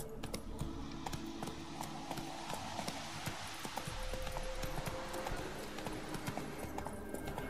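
Roach, Geralt's horse in The Witcher 3, gallops with steady rhythmic hoofbeats close by, carrying on at an even pace over a bed of ambient game noise, with a faint tonal sound partway through.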